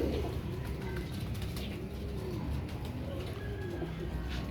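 Pigeons cooing in a loft, soft repeated rolling coos from a male and a female, fairly close but low in level over a constant background hiss, with no talk.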